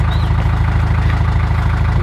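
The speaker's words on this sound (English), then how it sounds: "Shall I turn the engine off?" A narrowboat engine idles with a steady, low, throbbing chug, close and continuous, with no voices over it.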